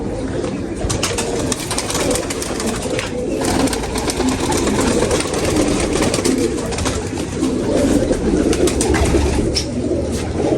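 Steady pigeon cooing over a dense, continuous background of outdoor noise, with the birds' low calls blending into a constant murmur.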